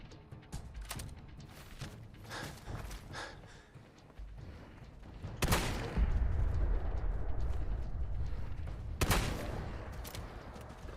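Rapid bursts of gunfire from Fallout 4 crack out as sharp, loud shots, first in scattered volleys and then as a dense, sustained barrage with a few heavy blasts standing out, with no voices over it.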